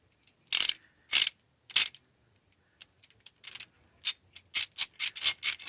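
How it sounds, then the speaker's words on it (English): An old Craftsman ratchet, forged in the USA and owned since 1986, clicks during a 2004 Hyundai Elantra strut replacement. Three loud separate clicks come first, then a run of quieter clicks that grows faster and louder, all heard close and alone. "Okay, I've owned this ratchet for,"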